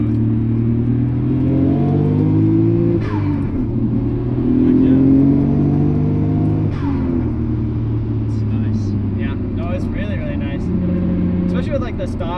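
A Nissan Skyline R32 GT-R engine with upgraded turbos revs up through rising gears, the tone climbing and dropping with each shift, loud and close, with people talking over it.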